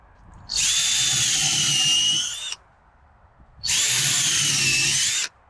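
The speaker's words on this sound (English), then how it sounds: "This is a 5/16 drill, and I'm going in a total of just over 1 inch." A 5/16 drill bores holes into a log in two steady whining bursts of about two seconds each, separated by a short pause, loud and close.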